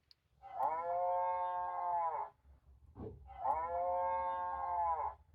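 Two long cow moos from a farm sound book play one after the other, each a sustained tonal low call, close and clear against a quiet background.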